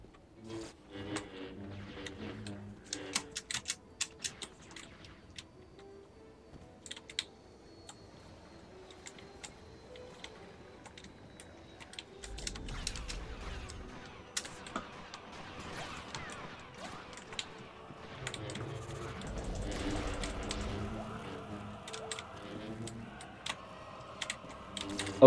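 Computer keyboard typing during a PC gaming session: irregular bursts of quick, light key clicks, louder in clusters, over quiet background game music and occasional thuds.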